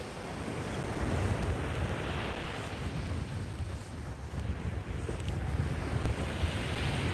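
Sea waves break on a rocky shore in Iceland, a loud, continuous rushing surf with rolling swells, mixed with strong wind buffeting the microphone, and no voices.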